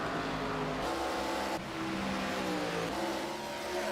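Race cars in a racing video game on the final lap, a sustained high engine whine with revving shifts and a brief gear change, loud and continuous with no talking.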